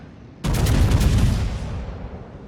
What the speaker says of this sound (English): volley with 2 turrets